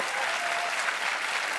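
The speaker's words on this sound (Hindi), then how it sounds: "सोनाक्षी का जोरदार तालियों से स्वागत एक बार" A TV talk show studio audience welcomes actress Sonakshi Sinha with a brief burst of loud, dense clapping from many people, steady throughout.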